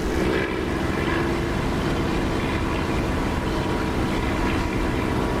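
An aircraft engine throttles up in the DCS flight simulator game, producing a loud, steady, close droning roar that holds evenly throughout with no talking.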